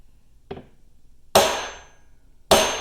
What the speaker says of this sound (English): take your two hammers, place the first hammer on the U-joint cap